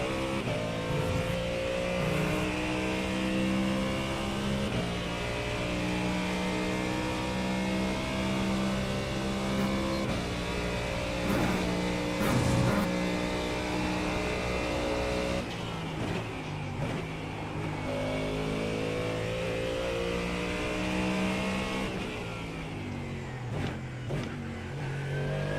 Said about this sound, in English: Love the sound of this Mustang.